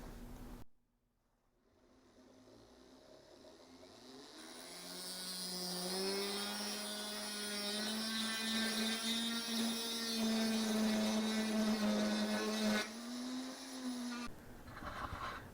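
A cheap Dremel cutting wheel grinds into a tungsten carbide ring with a fake wood inlay, giving a steady, high-pitched rotary whine that holds for several seconds before cutting off.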